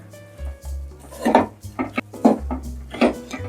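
A spoon or spatula scrapes and knocks through a thick flax seed laddu mixture in a pan with the flame off, in several distinct bursts of scraping, close and fairly loud.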